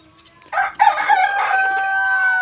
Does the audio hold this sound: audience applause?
no